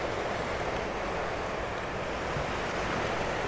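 Sea waves wash continuously onto the shore at Hua Hin, Thailand, a loud, broad, steady surf roar with some wind buffeting the microphone and no voices.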